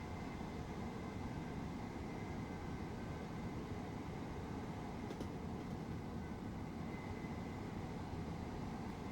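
A locomotive in the railway simulation game Train Sim World runs on the East Coastway line with a steady, loud engine drone and rumble of motion and no talking.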